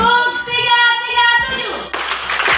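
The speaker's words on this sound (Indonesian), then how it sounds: "ayo kita tepuk dulu 337" A group of children claps the Indonesian tepuk 337 rhythm, with sharp hand claps breaking in around and after high children's voices that dominate the short stretch.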